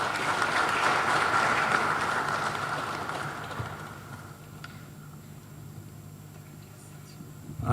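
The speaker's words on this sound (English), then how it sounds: "We'll continue clapping as she gets to her seat, until she gets to her seat." An audience at a university launch ceremony honoring the Kyabazinga of Busoga claps loudly, then the applause gradually thins and fades into quieter room noise.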